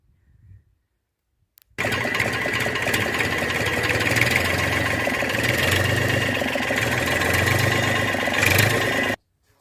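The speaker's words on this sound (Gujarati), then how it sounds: "હવે ટ્રેક્ટર ચાલુ કરવાનું છે ને થોડુંક ચાલુ રાખવાનું છે" A tractor engine abruptly starts up and runs at a steady, loud idle with a low rumble, then cuts off sharply after several seconds.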